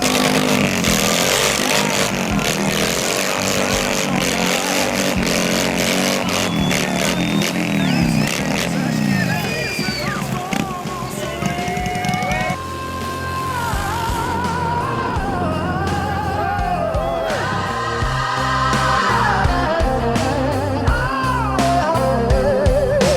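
A motorcycle engine revs and drones on an open road with a busy, shifting mix layered over it, and a voice speaks at times amid the sustained engine roar.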